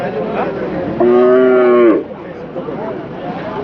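A single loud, drawn-out moo from a bullock rises out of background chatter at the Chakan cattle market and lasts about a second.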